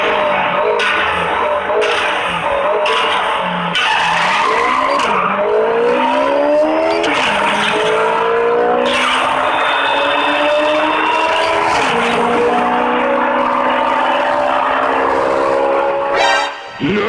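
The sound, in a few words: race car engine and tire skids from Asphalt drag racing video game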